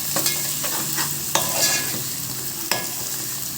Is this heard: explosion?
no